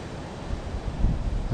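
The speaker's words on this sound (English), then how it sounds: "Wind's blowing something crazy" Strong cold wind buffets the microphone outdoors at a bass-fishing spot, a steady loud rumbling roar with no speech.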